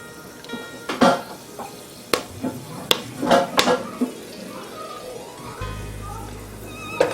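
Whole spices for mutton biryani pop and crackle in hot oil in a heated pan, with scattered sharp ticks and utensil clinks over a faint sizzle and a low hum near the end.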